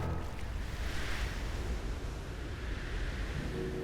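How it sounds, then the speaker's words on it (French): Strong ocean waves in a cartoon form a continuous rushing surf and wind noise, steady and moderately loud with no voices over it. "Les vagues sont beaucoup trop fortes."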